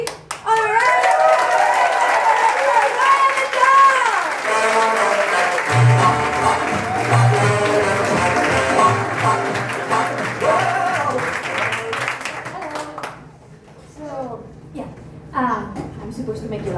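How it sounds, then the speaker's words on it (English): Audience at a Bright Club Glasgow comedy night applauds and cheers steadily throughout, loud and dense, tapering slightly near the end while a voice speaks over it. "So please start the clap and cheering."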